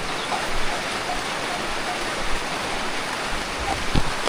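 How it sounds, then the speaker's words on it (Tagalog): Heavy rain pours down steadily in an outdoor bitter gourd (ampalaya) field, a dense, continuous broadband hiss with no breaks and occasional heavier splashes. Faint voices can be heard underneath the downpour. "Naabot na kami ng ulan talaga."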